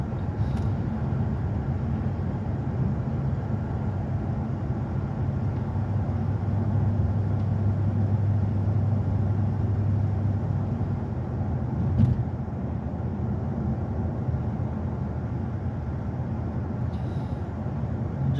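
A 1979 Lincoln classic car cruising along, its steady low engine drone and road rumble running unbroken at an even level, with one brief knock partway through and no talk.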